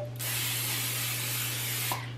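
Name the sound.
nonstick cooking spray sprayed onto a 12-inch skillet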